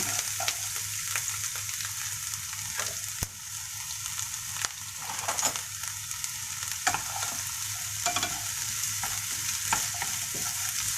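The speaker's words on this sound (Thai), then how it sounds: "เดี๋ยวเรามาผัดให้หอมสุกกันไปเลยครับ" Onions sauté in a pan for fusilli carbonara, a loud continuous frying hiss with scraping stirs and occasional clicks of a utensil against the pan, with no voices.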